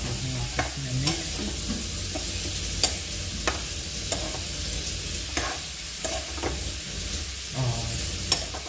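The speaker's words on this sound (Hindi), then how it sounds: "ये तो मिक्स कर दिया आलू भी, और सब चीज़ को कर देते हैं आपस में मिक्स।" Potatoes being stirred into vegetables frying in a pan, with a steady close sizzle and repeated scraping stirs and light clinks of the spoon against the pan throughout.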